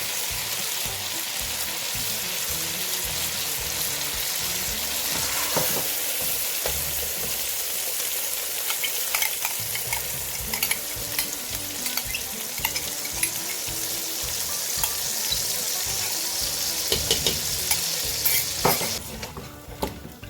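Chicken masala for a Chicken Makhni Handi fries in a pot after yogurt is added, with a constant loud sizzle and repeated scraping stirs, ending in a few sharper clatters.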